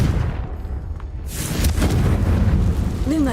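A Confringo blasting curse goes off in Hogwarts Legacy, a loud booming explosion with a crackling burst and rumbling low-end, followed by a whooshing magical tail.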